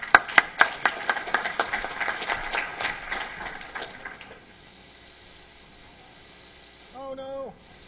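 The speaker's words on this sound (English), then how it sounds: "give him a round of applause." Conference audience at Shmoocon 2006 applauding a speaker, with several sharp claps up front quickly thinning into scattered clapping that fades out, followed by a quiet hiss and a brief bit of noise at the end.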